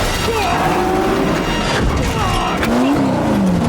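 Race car with failing brakes in a Ford v Ferrari film scene: loud engine roar with sharp tire squeals and skidding, plus a crash-like impact, continuous and close throughout.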